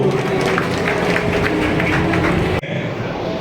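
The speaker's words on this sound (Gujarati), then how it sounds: "તાળીઓથી ગુંજતું રાખશું" An audience at a ceremony honoring village sarpanches in Vallabhipur claps in a steady, dense wash of applause, which cuts off abruptly near the end, leaving quieter room noise.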